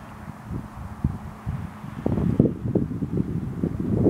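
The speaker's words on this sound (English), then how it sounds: "And now the wind is" Outdoor wind blows as a low, rough rumbling gust that buffets the microphone, growing stronger and more turbulent partway through, with no talking.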